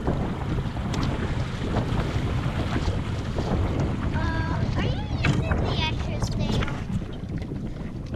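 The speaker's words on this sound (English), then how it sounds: "We're tacking, we're changing directions." A small sailboat tacks in open water, with steady wind buffeting the microphone and water rushing along the hull, while people talk close by.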